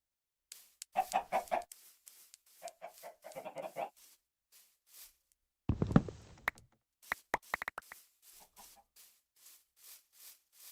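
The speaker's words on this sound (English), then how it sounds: "Ooh, desert chickens." Chickens in a desert setting within a video game, a series of short clucking bursts and soft calls spaced irregularly, fairly quiet with pauses between.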